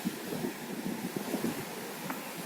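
Strong wind buffeting a phone microphone out at sea, a continuous rough roar with gusty thumps and blustering bursts, close and dominant, with waves faintly beneath and no voices.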